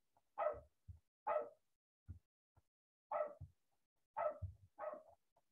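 A dog barks indoors about six times in short, separated bursts, sounding faint and somewhat distant, with quiet gaps between the barks and no voices.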